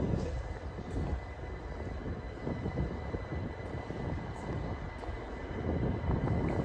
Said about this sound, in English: the train's coming, right?